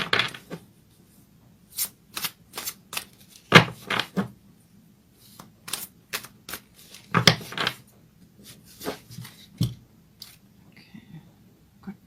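Tarot cards are shuffled by hand, making short bursts of crisp riffling and slapping in an irregular rhythm, close and fairly clear, with quiet gaps between bursts.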